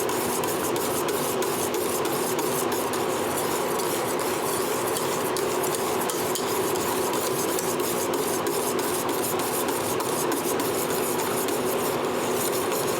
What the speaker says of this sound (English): once in a while, keep stirring it